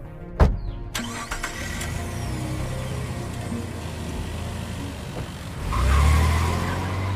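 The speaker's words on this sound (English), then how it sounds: "With a sharp press of the gas pedal, the car shot forward like a bullet, and Felipe sped away" A car speeding away, with a brief sharp hit at the start followed by a sustained engine roar that swells near the end, loud and close with no voices.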